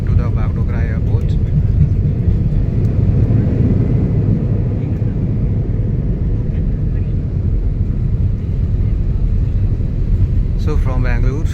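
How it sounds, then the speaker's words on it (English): Inside a passenger airplane touching down at Bagdogra Airport, a loud steady roar and rumble fills the cabin, and voices speak briefly at the start and near the end. "Yes, now we have touched the land."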